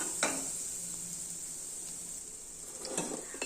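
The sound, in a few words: adding cooked rice to pan and stirring with fried mixture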